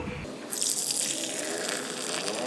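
Water drained off pressure-cooked goat intestine in a kitchen, a steady close pouring and splashing stream running continuously.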